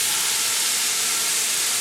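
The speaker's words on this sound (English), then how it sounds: "So we're going to take all of our meat now and dump it back in." Pork for chile verde goes back into a hot pot along with its juices, giving a loud, steady sizzling hiss that stays unbroken throughout.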